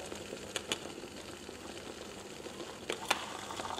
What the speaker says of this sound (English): you can hear that a little better with the top off. That it's got a rolling boil